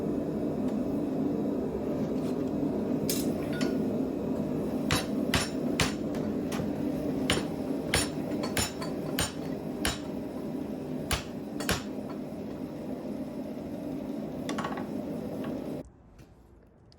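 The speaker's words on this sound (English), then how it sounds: "Quick adjustment in the vise and some straightening and the forging's done." Hammer blows straightening a forged Damascus steel chef's knife held in a vise, a long series of sharp metallic strikes at irregular intervals over a steady shop hum, ending abruptly near the close.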